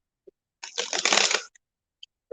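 A quick riffle of playing cards being shuffled, a brisk burst of papery flutter framed by a few soft clicks, close and fairly quiet.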